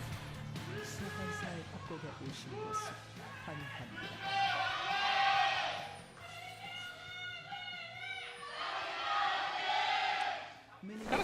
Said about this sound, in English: Kind of sounds like Griffin has their own specific cheer.